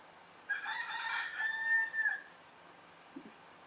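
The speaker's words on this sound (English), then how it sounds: "The rooster has spoken." A single rooster crows once, clear and fairly close, a drawn-out cock-a-doodle-doo lasting under two seconds, followed by quiet with a faint brief knock.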